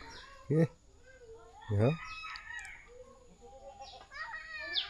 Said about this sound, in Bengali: এটা মুরগি তো না, এটা তো মোরগ। এই মোরগ কোকরক